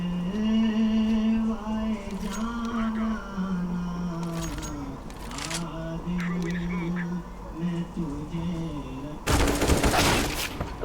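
Counter-Strike: Global Offensive gunfire, with scattered short sharp shots and bursts over a droning tonal background. A heavy loud burst of fire comes near the end, and a voice can be heard partway through.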